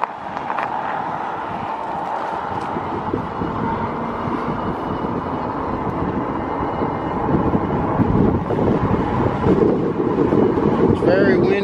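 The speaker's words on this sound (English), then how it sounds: "It's very windy out here today." Strong wind buffets the microphone while riding a Lectric XP e-bike outdoors, a loud, continuous low rumble that swells toward the end.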